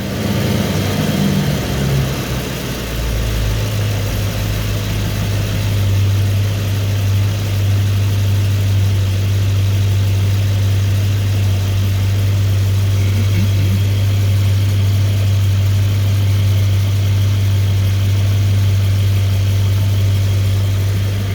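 A Mercedes E63s engine idles at cold start with about 60,000 km on it, a loud, steady low hum with a fast even idle throughout, close by and without talk.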